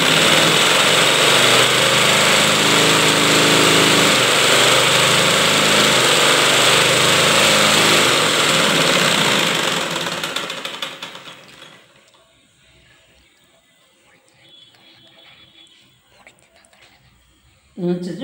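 A tailoring sewing machine runs loud and steady as its wheel is turned, then winds down and stops, leaving near silence with faint clicks before a final sudden burst.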